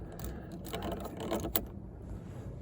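A ratchet spins a steering wheel hub nut off a Subaru Legacy rally car, with a quick, close run of clicking pawl ticks and light mechanical rattles over a couple of seconds, with no voices.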